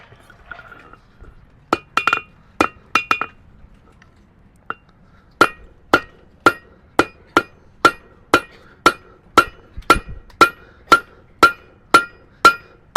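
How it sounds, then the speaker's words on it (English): A blacksmith's hammer rings on an anvil at a charcoal forge, first in a few quick clustered strikes, then in a long, steady, evenly spaced run of bright metallic blows, loud and close with no talk. "I'm using the anvil to bounce the hammer back up."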